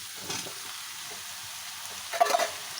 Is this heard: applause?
no